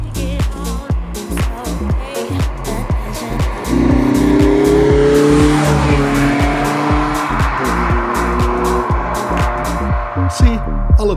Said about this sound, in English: Oh, VTEC kicks in, man.